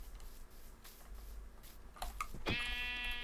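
Sheep bleating in a blocky sandbox video game with villagers and farm crops, a short bright bleat near the end following a couple of soft shuffling clicks over faint background hum.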